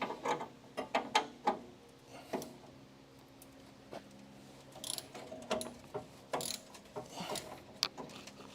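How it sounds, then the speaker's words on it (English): A ratchet wrench clicks in short bursts of metallic ticks while working on a rusty Crew Cab Charger frame in a garage, with irregular clanks and pauses between, no talking. "There's my ratchet."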